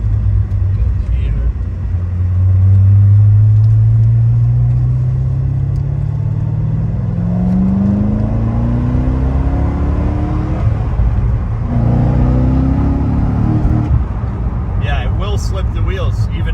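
Hard acceleration from a 2006 Chevy Corvette Z06 heard from inside, the engine note climbing steadily through a gear, easing briefly, then rising again under a loud interior rumble.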